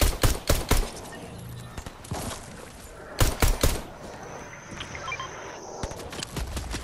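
Rapid bursts of automatic gunfire in a video game: loud, clustered volleys in the opening second and again around the middle, then scattered quieter shots, with faint game ambience between them.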